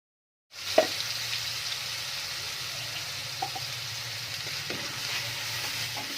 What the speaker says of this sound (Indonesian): Kemudian masukkan bumbu yang telah dihaluskan tadi sebagai bumbu kuah.